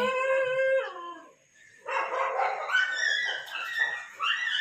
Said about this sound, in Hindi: ये रोज का है, सुबह शाम रात कुत्तों का, मतलब क्या बोलूं मैं, कुत्तों का झुंड। कभी हाउल करते हैं, कभी बार्क करते हैं